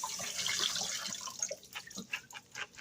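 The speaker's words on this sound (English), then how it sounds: "give it a good rinse, good shake" Canned beans rinsed under a running kitchen tap, a steady close water hiss with splashes that turn into choppy, uneven bursts as the beans are shaken.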